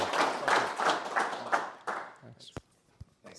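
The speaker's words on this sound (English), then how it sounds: "give a round of applause for Kyle" A room of people gives a round of applause at a high school sports legacy night, bursts of clapping that fade out within about two seconds, followed by a few stray claps and a short voice.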